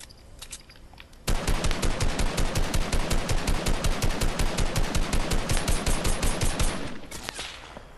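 Rapid automatic gunfire in Fortnite rattles on in a steady, evenly spaced stream of loud shots for about six seconds, then stops abruptly, with no talk.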